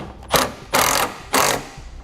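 A ratchet wrench tightens the back bolt of a Demco tabless base plate brace on a 2017 Ford Focus, three bursts of rapid clicking separated by short pauses, close and loud.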